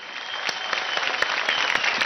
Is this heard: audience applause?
yes